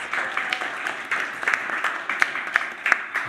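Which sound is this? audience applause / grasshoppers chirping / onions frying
audience applause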